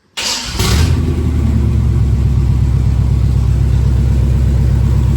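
A 1970 Chevelle with a swapped big block engine cranks briefly and fires, then settles into a loud, steady, lumpy idle with a deep rhythmic rumble, recorded up close.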